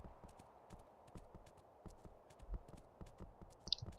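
Horse hooves in the video game Kingdom clip-clop in a faint, steady walking rhythm throughout, quiet and without talk.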